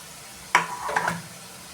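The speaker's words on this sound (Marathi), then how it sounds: "आणि तव्यावर आपण तळून घेऊ।" Small paneer pieces coated with salt and turmeric dropping onto a hot tawa, a brief sizzling burst followed by a short crackle that quickly settles.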